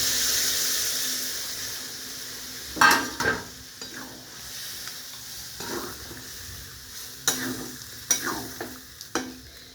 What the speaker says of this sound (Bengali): ওই যে মাংস আর ডাল সিদ্ধ করে রেখেছিলাম সেটা ঢেলে দেব।